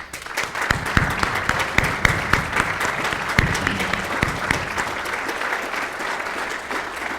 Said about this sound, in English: if you would please stand for a round of applause